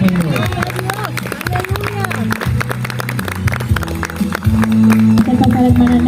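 A church congregation claps together as an offering of praise to the Lord at a church campfire gathering, a dense, steady patter of many hands over crowd murmur, with sustained tones running underneath.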